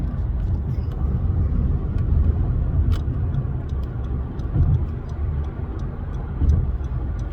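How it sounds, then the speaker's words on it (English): Car cruising along an LA freeway in traffic, a steady low road rumble and engine drone heard from inside the cabin, with faint clicking ticks over it and no speech. "Just driving along the freeway here"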